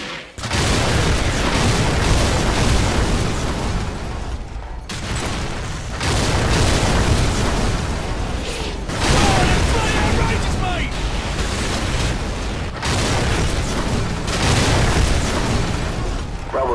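Repeated heavy artillery strike explosions in Call of Duty 4: Modern Warfare, a loud, dense barrage of booms rolling in several long waves with brief gaps, enemy armor and infantry targeted danger close, with radio chatter mixed underneath.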